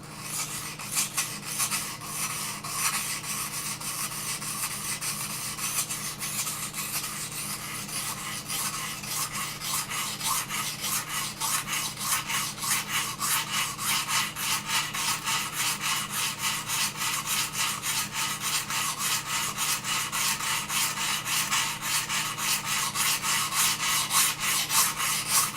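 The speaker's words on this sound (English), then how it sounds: "Just hold the knife in the same spot every time you sharpen it" Steel knife blade drawn repeatedly across a sharpening stone that sheds abrasive quickly, making a steady, close rasping scrape in continuous strokes with no voices.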